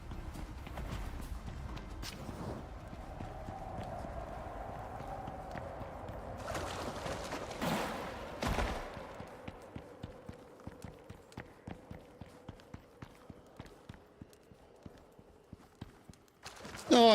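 In the video game Icarus, steady clip-clop of horse hooves trots along at an even pace, fairly faint, with a brief louder whoosh midway and a sharp sound at the end.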